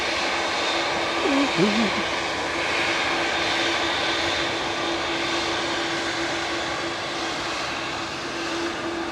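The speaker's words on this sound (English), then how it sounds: "TUI Dreamy with flight 2166 heading off to Rhodes now." A TUI 787-8 Dreamliner named Dreammaker departs Manchester Airport for Rhodes, its jet engines giving a steady, even drone with a sustained humming tone running beneath, heard from a moderate distance with a short chirp early on.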